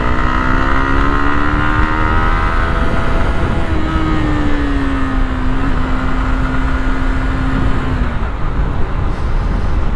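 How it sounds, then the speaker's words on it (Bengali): A used Yamaha R15 V2 motorcycle engine, loud and close, revs up and holds a rising then slowly falling tone before dropping back, with no talk over it. "একটু রেপ করে দেখি"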